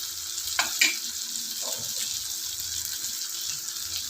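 Spices with tomato, ginger-garlic paste and ground chilli and coriander sautéing in a pan for vegetable kurma, a steady close sizzle with a few stirring scrapes near the start.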